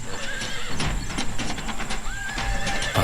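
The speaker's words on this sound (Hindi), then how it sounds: "घोड़ा हल्का हिनहिनाता है।" A horse neighs softly in an animated Hindi story, two rising whinnies close by with light hoof clip-clop and a busy backdrop of other sounds.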